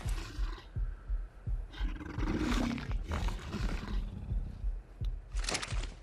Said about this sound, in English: It's the snake is attacking it.